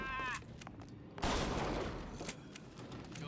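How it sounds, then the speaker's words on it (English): Shotgun fire in the video game Bioshock Infinite, a couple of sharp blasts followed by a dense, noisy burst of combat gunfire, heard fairly faintly with no talking. "How are shotguns so weak when she wields them?"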